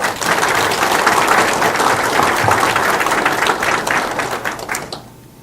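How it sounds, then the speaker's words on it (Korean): Warm, steady applause from guests at a landscape architects' New Year gathering, a dense wash of many hands clapping for about five seconds before fading out quickly. "우리 위원장님을 위해서 다시 한번 뜨거운 박수 부탁드리겠습니다."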